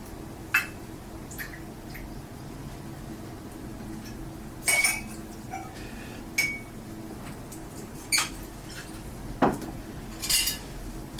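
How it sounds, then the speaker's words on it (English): Glassware clinks as a cocktail of mango kefir and Flor de Caña 12 rum is stirred, a handful of scattered sharp chinks and taps against a quiet room background. "Give this a quick stir."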